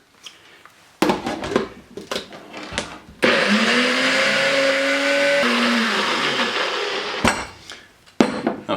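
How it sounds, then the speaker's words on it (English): A small kitchen blender mixing sauce whirs loudly for several seconds, its motor pitch steady then dropping as it stops, with clatter and handling noises before and after. "We're going to put it in our little blender here."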